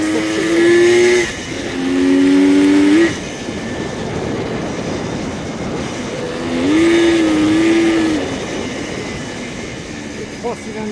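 A 1973 Kawasaki 750 H2 three-cylinder two-stroke motorcycle engine idles and then revs in a few rising bursts, settling back between them, heard fairly close.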